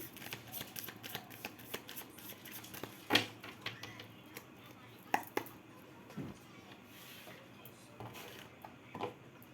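Tarot cards being shuffled and laid out on a surface, with soft papery rustles and a few sharper slaps and snaps scattered across a quiet stretch.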